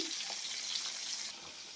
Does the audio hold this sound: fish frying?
yes